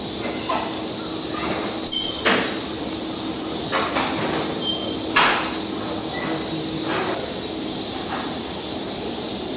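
A door on the Keihan cable car, a funicular between Yawata and Otokoyama summit, slides shut inside the car, with brief clunks and a hiss over a steady running hum and faint chimes.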